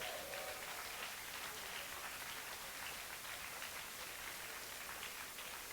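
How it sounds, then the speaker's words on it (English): Audience at a film festival awards show applauds in a dense, steady wash of clapping that holds evenly for several seconds without pause. "Give them a big round of applause."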